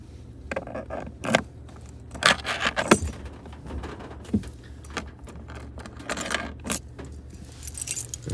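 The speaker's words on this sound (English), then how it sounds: "The key is actually part of your key fob." Metal clinks and jangles as the mechanical key is popped out of a 2024 GMC Sierra key fob, several sharp close-up rattles spread across a quiet interior with a low steady hum beneath.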